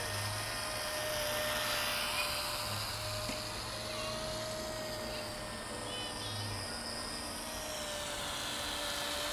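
The electric motor of a WLToys F949 RC trainer plane on grass gives a steady, high-pitched whine with layered tones, holding constant and fairly close for the whole stretch over soft outdoor noise.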